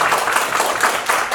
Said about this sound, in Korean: 여러분 박수를 한번 주시겠어요?